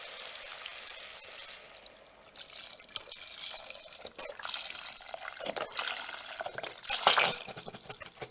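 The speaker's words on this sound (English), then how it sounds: "I'm going to go ahead and unload the 1 liter of stock into there." One liter of liquid stock pours into an Instant Pot for butternut squash soup, a steady splashing trickle at moderate level that swells toward the end, with no talking.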